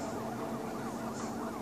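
A police siren wails in the Smashy Road video game, a steady, moderately loud, warbling electronic tone over a short stretch.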